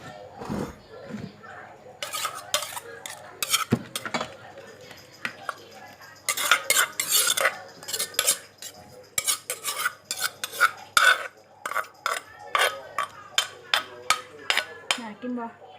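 Spicy Thai seafood papaya salad is poured and scraped into a tray, giving a run of irregular clinks, taps and wet scraping bursts, close and fairly loud, with a person talking in between.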